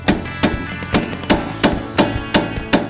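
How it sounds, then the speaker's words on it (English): Sharp hammer taps on the steel strut clevis mount of a Jeep Grand Cherokee during shock and strut replacement, about eight evenly spaced metallic strikes, close and loud, with no talking. "Tap down on the clevis mount,"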